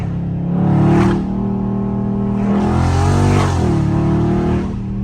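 A catless Dodge Scat Pack's engine roars loudly from inside the car, rising in revs, dropping through a downshift, then pulling hard again without pause.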